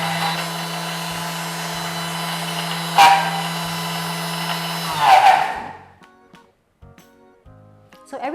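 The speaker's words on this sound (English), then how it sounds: "you want to blend until the oil from the peanuts actually come out" A Thermomix running at speed 10 grinds peanuts into peanut butter with a loud, steady motor whir and a couple of sharp knocks, then winds down and stops, leaving faint clicks and a bit of handling noise.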